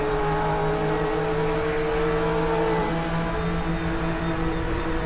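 A GT3 race car engine in Assetto Corsa during a winter-mod race at Spa, droning loud and steady with sustained high revs and tonal harmonics, no voices over it.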